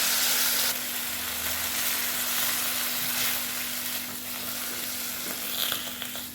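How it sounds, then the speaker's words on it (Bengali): Boiled bottle gourd greens fry in hot oil spiced with panch phoron, making a loud, continuous close-up sizzle with soft stirring hiss throughout. "এবার আমি সেদ্ধ করে রাখা শাকটাকে দিয়ে দিলাম"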